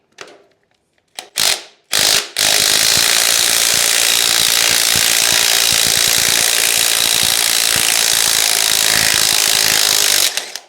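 A socket wrench loosening a nut on a 2-stroke Victa go kart: a few short separate ratchet clicks, then a long continuous rapid clicking ratchet run, close and loud, with no talking.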